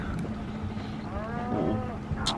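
A cow lows in a mid-range moo with a wavering, harmonic tone at a farm animal petting stop in winter, rising briefly over a steady background hum, then fading.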